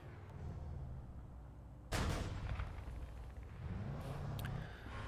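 Tank cannon fire in War Thunder, a single loud sharp blast breaking over steady engine rumble, followed by continued mechanical droning and a fainter thump toward the end.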